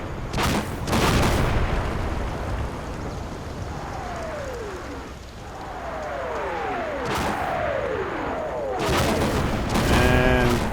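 German artillery shells landing around a hill in the World War II game Combat Mission, with deep booming impacts at intervals and whistling incoming rounds between them, loud and close, over a rumbling battlefield backdrop.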